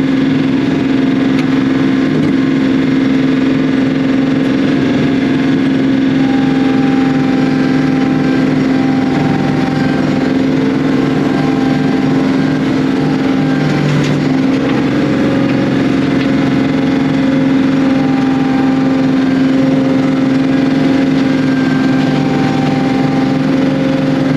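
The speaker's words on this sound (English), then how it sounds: "We've got the Flail Mower running." A tractor-driven flail mower runs at working RPM in low gear, a steady loud engine drone with a strong constant hum and slight fluctuations throughout, no talk.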